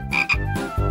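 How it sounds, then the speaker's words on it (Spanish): Cartoon frog croaking in a series of loud, close, throaty croaks with short gaps between them, standing alone with no talk. "¿Qué hago yo con esta rana?"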